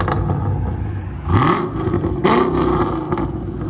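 A cammed Chevy Camaro SS with Flowmaster Super 10 series mufflers idles with a deep exhaust rumble, punctuated by two sharp revs that climb and fall back, fairly close.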